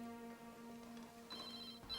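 A telephone rings in another room of a home, its electronic tone faint and steady under low background hum, with a brighter ringing burst toward the end; nobody speaks.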